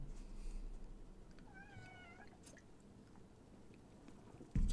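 A house cat gives a short series of soft, quavering meows close by, faint over background hum during a gaming stream, ending with a sudden thump.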